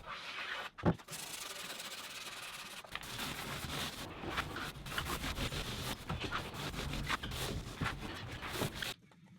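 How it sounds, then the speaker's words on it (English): Steady rasping scrubs of sandpaper on wood, continuous back-and-forth strokes at close range with brief pauses, no talking. "Then I did a bit of sanding and some rounding of the corners"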